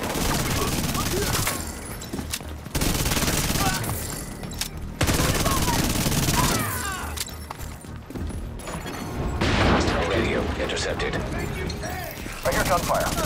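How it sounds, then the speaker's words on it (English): Gunfire in the video game The Division 2 during a city hall attack, dense bursts of rapid shots and automatic fire in sections with brief lulls, loud and close, with game voices mixed in. "I hear gunfire"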